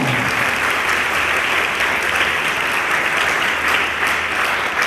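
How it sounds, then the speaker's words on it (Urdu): A church congregation claps loudly and continuously during a service on Jesus' entry into Jerusalem, a thick, even wash of applause that fills the room for several seconds with no speech over it. "اس یسوع کے لیے زوردار تالیاں۔"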